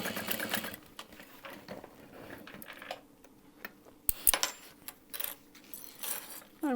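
A sewing machine stitches a handbag seam in short bursts of whirring, broken by clicks, taps and small metallic knocks from handling, fairly close and quiet, with no voices.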